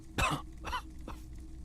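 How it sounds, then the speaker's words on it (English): A male character in the video game Disco Elysium gives three dry coughs in quick succession, close and distinct over a low steady background hum, with nothing else happening. "He coughs as if to mark his words."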